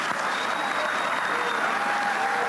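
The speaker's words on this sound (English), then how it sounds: "Your people will clap bloody anything, won't they?" Steady, continuous applause from a large audience at a debate or talk, an even wall of many hands clapping close and loud with no voices breaking through.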